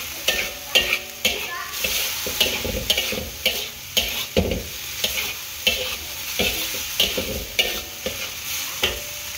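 Rhythmic scraping and sizzling as noodles are stir-fried with egg in a hot pan, with regular clanks of a utensil against metal, close and loud.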